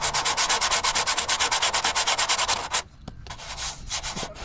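A fibreglass front bumper for a 1992 Nissan 300ZX (Z32) is sanded by hand with coarse 80-grit paper, giving fast rhythmic rasping strokes, loud and close, that slow and soften after a short pause.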